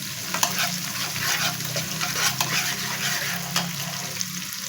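Garlic frying in oil in a kadhai, a steady close sizzle with occasional stirring scrapes and small pops, continuous throughout without speech.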